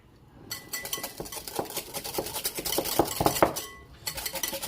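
A whisk beats Dijon mustard and two egg yolks together in a bowl, giving quick irregular clinks and scrapes against the bowl that stop briefly before picking up again.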